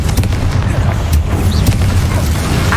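Confringo spell blasts in Hogwarts Legacy land as deep, heavy booms with sharp cracks scattered over nearly three loud seconds of combat din.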